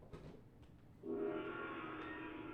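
A sustained, gong-like tone from data sonification swells in at about one second and rings on steadily to the end, loud and resonant, after a softer muddled start.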